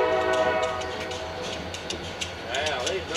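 A freight train with a gondola and a tank car rolls past, its horn sounding in sustained harmonic blasts over rumbling wheels and rail noise, with brief chatter in the background.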